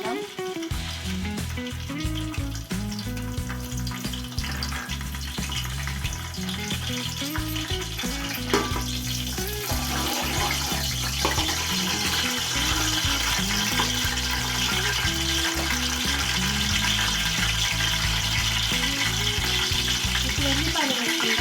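Cardamom, cloves and cinnamon fry in hot oil for biryani, a steady loud sizzle running the whole time under a constant mechanical whir.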